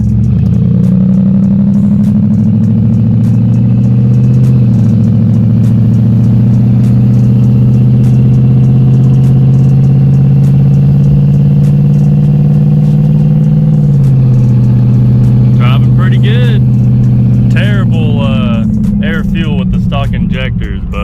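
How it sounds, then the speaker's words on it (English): A turbocharged Ford Thunderbird drives on the street with a loud, steady engine drone that dips and shifts partway through, while people talk over it. "We're gonna go and take it for a quick drive. And we are pulling her back on the street"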